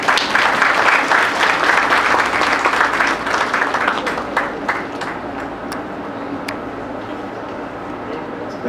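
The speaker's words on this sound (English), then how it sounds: "Can we have a round of applause, please?" Audience applause closing a pre-conference session on antibiotic stewardship: loud, dense clapping from a room of attendees that thins and fades over the second half.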